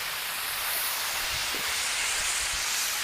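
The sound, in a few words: onions and peppers sauteing in a pan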